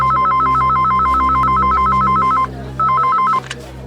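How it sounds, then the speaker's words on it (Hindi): A telephone rings loudly with a rapid warbling electronic trill, one long burst, a brief pause, then a shorter burst over a low background hum. "किसका फोन है?"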